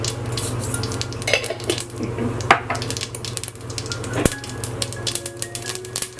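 Mustard seeds crackle and pop in hot coconut oil in a pan, a dense run of small sharp snaps over a steady sizzle, with a few louder pops standing out.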